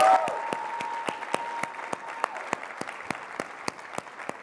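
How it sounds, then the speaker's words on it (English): Warm audience applause for a 17-year-old honoree at a presentation, steady dense clapping with sharper individual claps standing out, sustained and fairly close through the whole stretch. "So let's give Olivia a warm applause."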